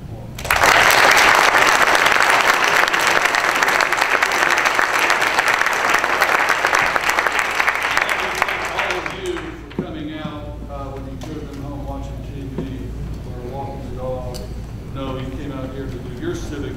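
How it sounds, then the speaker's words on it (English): A candidate forum audience applauds city council candidates with loud, dense clapping for about nine seconds, which then stops abruptly and gives way to people talking nearby. "I think we deserve to give them all a round of applause."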